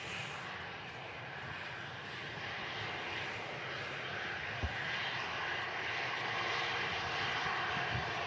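An EasyJet airliner departs Manchester Airport, its engines a steady, broad roar that holds at an even level throughout, with no talk over it.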